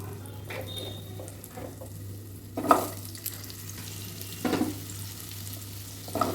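Potatoes fry in hot oil in a wok, a soft steady sizzle broken by a few louder bursts and clatters as pieces drop in or get stirred.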